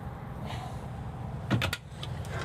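A drawer under the sink in a Winnebago Solis 59PX Class B camper van slides open with a brief scrape and clunk over a low background hum, followed by a couple of faint knocks.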